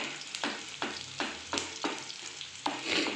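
Onion frying in a pan for a soft okra dish, with a quiet sizzle punctuated by a regular series of about eight spatula scrapes, each a short sweeping stroke, close and without talk.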